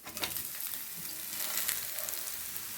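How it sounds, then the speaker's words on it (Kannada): A soya, oats and fenugreek-leaf masala roti fries on a pan over a medium flame, giving a steady, moderate sizzle with light crackles and no talking. "ನಿಧಾನವಾಗಿ ಮೀಡಿಯಮ್ ಫ್ಲೇಮಲ್ಲಿ ಇಟ್ಕೊಂಡ್ರೆ ಈ ಥರ ಗರಿ ಗರಿ ಗರಿಯಾಗಿ ಮಸಾಲೆ ರೊಟ್ಟಿ ಆಗುತ್ತೆ."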